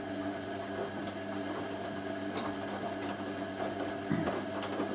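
Hoover A3060 Electronic 1100 washing machine running a fast coloureds 60°C cycle, giving a steady mechanical whir with rhythmic motor hum and faint clicks, continuous and fairly close with no speech.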